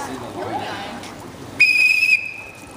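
Whistle blown to start swimmers in a pool during a swim lesson, one short shrill blast after a stretch of indistinct speech and echoing pool noise.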